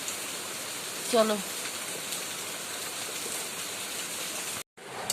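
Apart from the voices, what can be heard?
heavy rain falling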